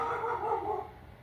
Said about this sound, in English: Oh, that's the neighbor's dog.